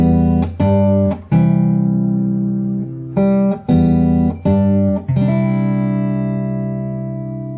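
Fingerstyle acoustic guitar plays the closing phrase of a song: a few rolled chords struck in sequence, each ringing out before the next, ending on a long sustained chord that fades, close and clear with no voice.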